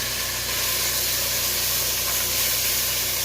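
Oxtails browning in a hot pan give a loud, steady, hissing sizzle that holds level throughout the short stretch.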